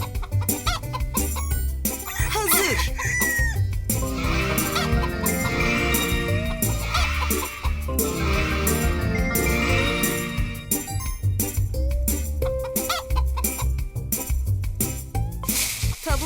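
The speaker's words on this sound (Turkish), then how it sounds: "Tavuklar artık doydu ve yumurtlamaya hazırlar." Chickens cluck repeatedly over cheerful animal-feeding game music, with jingly chimes and a busy, continuous backdrop.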